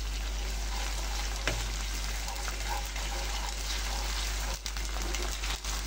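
Ginger and garlic added to onions already frying in a pan give a steady loud sizzle and hiss, with a few brief stirring knocks, close up and without speech.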